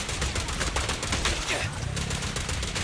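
Rapid gunfire during combat in Zenless Zone Zero, dense continuous shots with busy game effects throughout.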